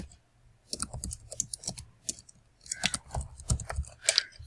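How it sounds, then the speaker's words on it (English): Rapid computer mouse and keyboard clicks while creating a new record in an ASP.NET MVC web application, sharp close ticks in irregular bursts with brief pauses, and no speech. "we click on the create button"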